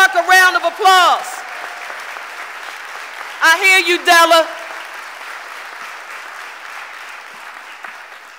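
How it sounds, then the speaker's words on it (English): An audience applauds Della Clark, a Philadelphia entrepreneurship leader, at the mayor's first budget address to City Council: steady broadband clapping fills most of the clip, with someone speaking over it briefly at the start and again near the middle. "Give Della Clark a round of applause"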